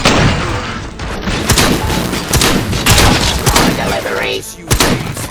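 Gunfire and impacts from the game RoboCop: Rogue City on PS5 come as loud, repeated bursts and thuds, with game voices talking over the shooting.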